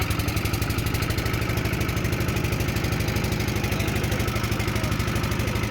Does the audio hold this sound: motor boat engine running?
yes